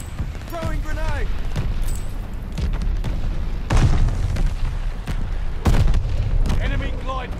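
Grenade blasts in a first-person shooter free-for-all match, several deep booming explosions with heavy low rumble amid ongoing gunfire and game noise, and a voice briefly heard over it.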